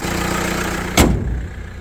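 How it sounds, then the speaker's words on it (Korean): A Hyundai Maxcruz with a 2.2-litre e-VGT diesel engine and 4WD idles with a steady low hum, broken midway by a single sharp click close to the microphone. "엔진이고요 엔진 소리도 양호합니다"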